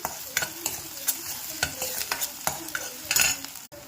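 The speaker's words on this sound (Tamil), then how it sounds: "ஆனியன் சேர்த்துடலாம். நல்லா இதை ஃப்ரை பண்ணிக்கலாம்." Onions fry in a pan with a steady sizzle, broken by sharp scrapes and clicks from stirring that come every half second or so, close and fairly loud, with no voices.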